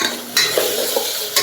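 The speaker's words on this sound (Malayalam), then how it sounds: "ഇനി നന്നായിട്ടൊന്ന് വഴറ്റി കൊടുക്കാം." Onions being sautéed with turmeric and pepper powder in a pan for mutton curry: a constant sizzle broken by a few quick scrapes and stirs of a spoon.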